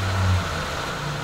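A Hummer H3 engine runs in a garage with a low steady idle hum and a slight swell at the start, loud and close, with no talk.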